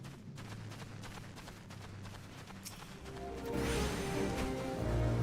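A Blue Mage missile spell cast in Final Fantasy XIV lands amid busy battle effects, swelling into a louder, denser burst of impacts partway through and holding at that level to the end.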